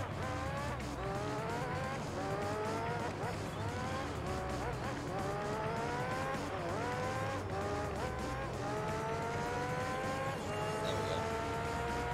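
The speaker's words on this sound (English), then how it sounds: "prepare for a lap of what will probably be budget Tokyo Drift with F1 cars." Formula 1 race cars in Gran Turismo 3 slide through corners with repeated rising engine revs and tire squeal, with the engine noise filling the whole stretch while a voice talks over it.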